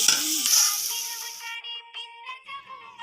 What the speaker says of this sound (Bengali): পেঁয়াজ নেড়ে চেড়ে নিয়ে ভেজে নিতে হবে